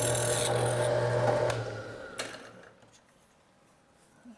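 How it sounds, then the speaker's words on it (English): A drill bores through aluminum, a loud steady whine for about a second and a half that cuts off and trails into quiet scraping and handling noise. "it's okay to drill all the way through"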